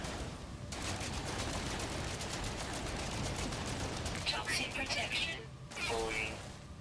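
A handheld weapon in the space game No Man's Sky fires in a rapid stream of shots for several seconds, ending in a brief gap and a final short burst, with some high electronic whines near the end.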